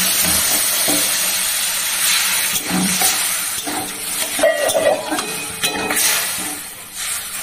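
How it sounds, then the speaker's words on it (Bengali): Hot water is poured into a cooking pot of salted potatoes, giving a loud, continuous hissing and sizzling wash of sound with splashy bursts that swells and dips over several seconds. "জল দিচ্ছি, গরম জল কিন্তু।"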